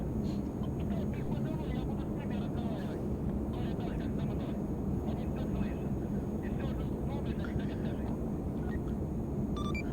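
A military transport plane sitting on the runway ahead of departure in Arma 3, its engines holding a constant loud drone throughout, with radio chatter over the top.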